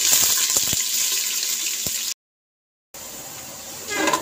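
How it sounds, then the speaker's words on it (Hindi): Onion going into hot oil for aloo shimla mirch, a steady hissing sizzle that fills the first two seconds, cuts out briefly, then returns with bubbling crackle growing louder near the end. "तो ऑयल गर्म हो गया, अब मैं डालने लगी हूँ प्याज"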